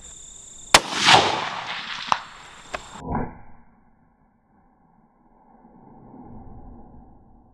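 A single loud, sharp gunshot from a Ruger American rifle chambered in 5.56, firing at a target at an outdoor range, followed by a few quieter clicks and knocks and a short echoing tail that fades into near silence.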